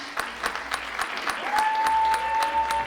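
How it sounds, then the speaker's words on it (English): Steady applause from an audience, many hands clapping at once with no break, and a faint tone rising partway through. "I would just like for everyone to give these lovely ladies a round of applause"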